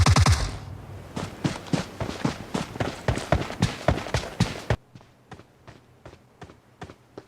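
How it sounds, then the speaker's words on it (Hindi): Gunshots from a teammate in PUBG ring out as a rapid string of sharp cracks, about a dozen loud reports followed by a quieter, more distant burst of evenly spaced shots. "फायरिंग हुई है, मेरे ही टीम मेंबर ने फायरिंग की है।"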